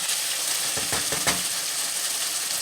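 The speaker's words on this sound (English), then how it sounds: "You just keep stirring that around until it gets crispy" Hashbrown casserole frying in a pan with a steady, close sizzle, while a cooking spoon stirs and scrapes through it in a short burst.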